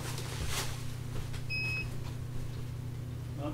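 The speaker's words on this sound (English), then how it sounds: "My phone alarm's going off." A phone alarm gives a brief thin electronic beep, faint over a steady low hum in a workshop room.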